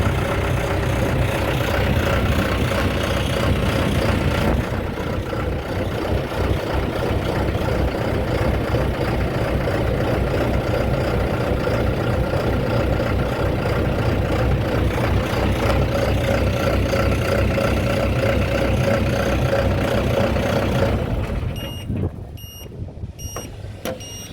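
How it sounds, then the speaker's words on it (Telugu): A Greenfield Cropking 120 lever-operated track harvester with a diesel engine idles nearby, a steady low rumble with a faint tonal whine that holds for over twenty seconds before easing down, with a few electronic beeps at the close. "ప్రెజెంట్ ఇంజిన్ ఇప్పుడు ఐడిల్ స్పీడ్లో ఉంది."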